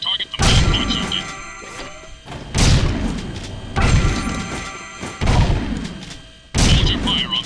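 Repeated heavy gunshots in the video game Jak 2 as targets are shot on a shooting range, arriving as loud booming blasts at irregular intervals, several sharp impacts each trailed by a rumbling decay.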